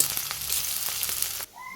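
Chopped onion, garlic and ginger fry in oil with a brief, bright hissing sizzle and a few crackles, ending abruptly after about a second and a half.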